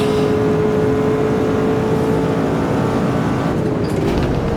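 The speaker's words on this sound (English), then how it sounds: "Can somebody please make the best V12 McLaren F1 sound" McLaren F1 V12 engine in the Automobilista racing game, a loud sustained high-revving drone with a steady pitch that sags slightly near the end, heard continuously from the cockpit with no talk.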